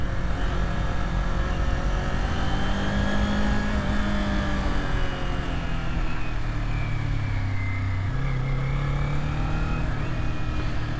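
A Kawasaki Z400 motorcycle winds through mountain corners, its engine droning loud and continuous. The pitch rises and falls as the throttle is worked through the bends.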